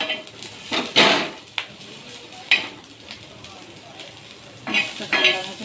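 Onions frying in a pan on a gas stove for a homemade sev bhaji, with a few sharp scraping stirs of a spoon against metal over a soft sizzle, irregular and close.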